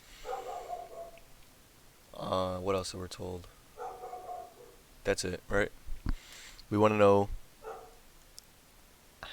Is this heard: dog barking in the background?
yes